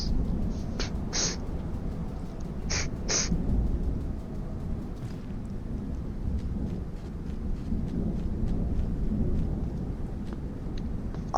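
A thunderstorm in the video game Rain World with green lightning: a steady roar of heavy rain, with a few sharp bright crackles early on and low rumbling throughout.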